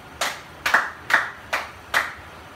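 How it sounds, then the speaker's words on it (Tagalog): Five crisp, evenly spaced claps from a group applauding classmates in a classroom presentation, sharp and close in a steady rhythm with nothing else around them. "Bigyan natin sila ng 5 palakpak"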